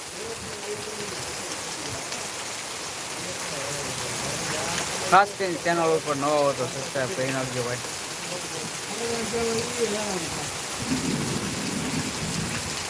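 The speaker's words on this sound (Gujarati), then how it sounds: "ધારે પાણી પડે છે જોરદાર" Heavy rain pours down in a village during a storm, a dense, steady hiss of falling water with thunder rumbling through it, while someone talks over the downpour.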